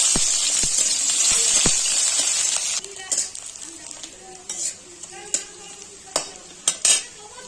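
Sugar, bay leaf and chopped onion hitting hot oil, a loud bright hiss at first that gives way to a softer sizzle with repeated sharp spoon scrapes and taps against the pan.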